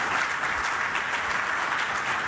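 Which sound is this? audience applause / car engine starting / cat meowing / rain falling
audience applause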